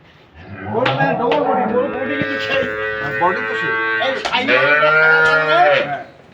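A dairy cow moos loudly and close by, two long drawn-out calls with a brief break between them.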